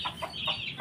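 Chickens and chicks in a backyard pen cluck close by in a short run of quick repeated calls with higher chirps mixed in.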